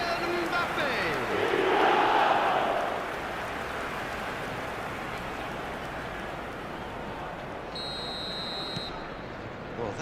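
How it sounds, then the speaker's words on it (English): A stadium crowd in the eFootball 2026 video game, a broad steady roar that swells early and then settles to a constant drone, with a brief electronic tone near the end. "Now the crowd are demanding that they just finish this off."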